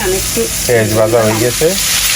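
Bitter gourd fries in a pan for a Bengali home-style dish, a steady hiss of oil running throughout while a voice talks over it in the foreground.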